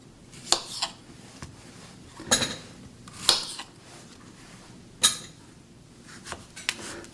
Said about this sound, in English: And now we'll chop our zucchini.